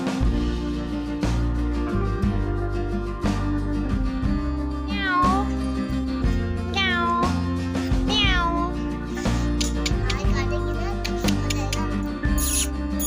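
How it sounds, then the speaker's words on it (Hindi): A cat perched up high meows in a few drawn-out, rising calls spread across the clip, fairly close, over steady household background sound and music-like tones, with no talking. "बिल्ली वहाँ बैठी थी ऊपर, तो थोड़ा सा मैं उसे मस्ती करने लगी"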